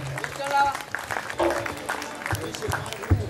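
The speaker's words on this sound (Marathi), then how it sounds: "हात वरती करून जरा सगळ्यांच्या टाळ्या झाल्या पाहिजे." An audience claps at an outdoor revolutionary Bhim-song concert in Manmad, a broad, ragged applause rising and falling under a loud voice talking through it.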